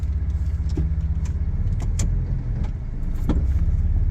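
A 1994 Ford F-150 pickup idling close by with a steady engine rumble, broken by a few sharp clunks and knocks as the transmission is shifted into drive.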